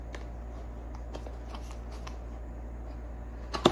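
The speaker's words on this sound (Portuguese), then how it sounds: "eu vou abrir essa caixa aqui desse teclado." A cardboard box holding a new gaming keyboard being handled and opened, with soft scattered rustles and light scrapes of packaging at close range, then a brief sharper tear or snap at the very end.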